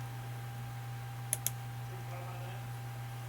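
Two sharp computer mouse clicks come in quick succession near the middle, crisp and close over a quiet low electrical hum.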